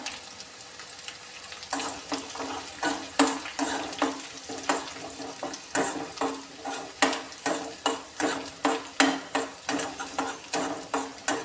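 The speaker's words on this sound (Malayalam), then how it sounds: "പിന്നീട് അതിലേക്ക് നമുക്ക് വറ്റൽമുളക് ഇട്ട് കൊടുക്കാം." Dried red chillies and shallots fry over a low flame in a pan for sambar, sizzling softly beneath repeated rhythmic scraping and clinking of a stirring spoon.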